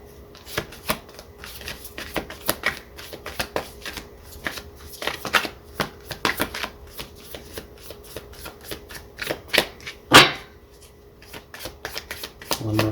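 Tarot cards being shuffled up close, a steady run of crisp riffles and soft slaps with a sharper snap near the end, while someone talks quietly at times during a weekly Cancer reading.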